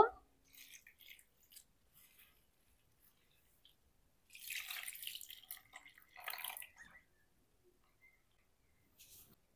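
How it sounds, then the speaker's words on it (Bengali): Flattened rice (chire) being washed in water, heard as faint, scattered wet splashes and drips close by, with a couple of short louder bursts of sloshing amid near silence. "চিঁড়েটাকে জল দিয়ে ভালো করে পরিষ্কার করে ধুয়ে নেব।"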